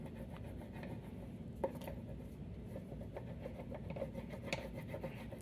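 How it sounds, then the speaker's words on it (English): Oil pastel rubbing on paper along the outline of a mountain, a faint, close, scratchy scraping of short repeated strokes. "you will grab some oil pastels and you will color along the top of the mountain"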